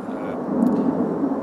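A low, broad rumble of a plane passing overhead, steady and moderately loud, swelling slightly midway with a faint high whine.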